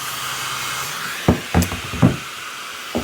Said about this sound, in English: And give it a good steaming to begin with.